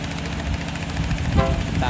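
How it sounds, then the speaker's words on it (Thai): A Cummins NTA 855 R1 diesel engine of 350 horsepower powers a Thai special express diesel railcar set of three cars leaving a siding, giving a loud, close, steady low rumble with throbbing mechanical texture. "เป็นเครื่องยนต์แบบคัมมิน NTA 855 R1 ขนาด 350 แรงม้า"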